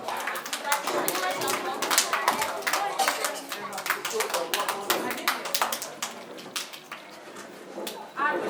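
Dense applause from an audience at a Montessori school event in Arepo, Ogun State, steady rapid clapping with a few sharper claps, continuing for several seconds with voices murmuring underneath.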